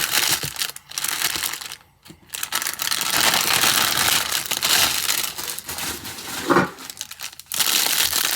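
Plastic packaging around a small paintbrush crinkles and crackles loudly and continuously up close, broken only by a couple of brief pauses.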